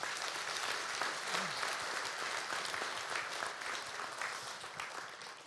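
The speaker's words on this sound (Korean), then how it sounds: "개헌 잘 해달라는 커다란 응원의 박수 한번 보내주시죠" Steady audience applause fills a hall during a community self-governance convention, a dense even clatter of many hands that holds at full strength throughout with no voices on top.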